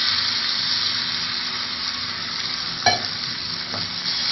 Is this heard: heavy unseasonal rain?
no